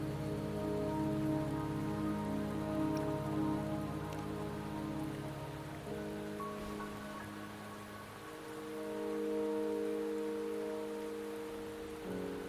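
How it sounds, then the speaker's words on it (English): Steady rain patters across surfaces in the Wuthering Waves game world near Mount Firmament, a dense continuous hiss over a low tonal music bed, with no voices. "Don't worry, the rain won't last much longer."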